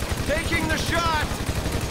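Rapid gunfire in GTA 5 Online crackles as a quick repetitive burst of shots over about two seconds, loud and close, with voices speaking over it.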